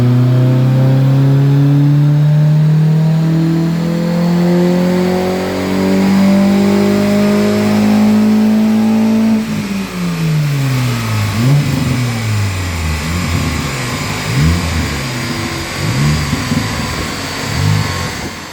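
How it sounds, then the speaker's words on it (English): Stock Mini with a different air filter and cherry bomb exhaust revving hard on a rolling road dyno, engine pitch climbing steadily before dropping and blipping repeatedly; loud and close. "he's decided to chuck it on the rollers anyway to see what kind of power it makes"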